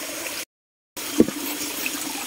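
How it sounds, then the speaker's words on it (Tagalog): Rainwater flows along a mountain trail, steady broadband rushing and trickling close by, broken by a brief dropout and a few splashy knocks. "umulan kasi kagabi. Kaya may tubig na naman dito sa ating dinaraanan."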